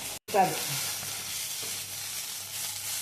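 Thuthuvalai leaves sauté in a pan for chutney, giving a steady, moderate sizzle with a few stirring scrapes near the start after a brief cut.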